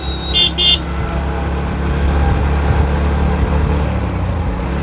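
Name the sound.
CNG auto-rickshaw honking behind motorcycle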